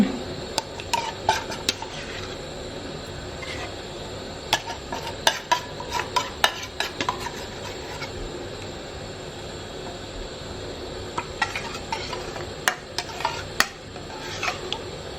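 A spoon repeatedly scrapes and clinks against a pot while curry paste is stirred into water for Thai sour fish curry, with bursts of sharp metallic taps separated by quieter pauses.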